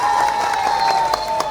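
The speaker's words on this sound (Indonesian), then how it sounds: "tepuk tangannya mana?" Applause and crowd noise fill a short stretch at an Islamic preaching event with music, steady and fairly loud with a few sharper claps rising out of the mass.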